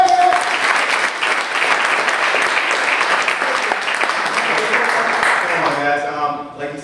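A crowd gives sustained, loud applause for Joe Lucas at a weekly agent report event, dense even clapping that fades toward the end as voices begin.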